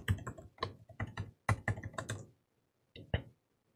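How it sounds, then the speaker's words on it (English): Password typed on a laptop keyboard: a quick run of close, crisp key clicks for about two seconds, a short pause, then a few last keystrokes, with no voices. "and then I'll type in the password."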